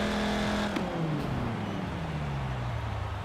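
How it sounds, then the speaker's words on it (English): A Volkswagen Touareg R50 V10 engine with a race camshaft in Forza Horizon 4, a steady loud drone that revs up, then slides down in pitch as the engine winds down, alone with no talk. "it's a V10 exclusive to Volkswagen, and it sounds different from the Viper"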